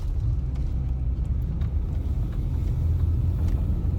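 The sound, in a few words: car driving on the road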